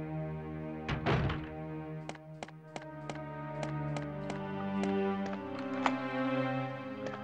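A door being unlocked in the Resident Evil Director's Cut video game, a heavy thunk followed by a series of sharp, evenly spaced clicks and taps over a faint steady hum.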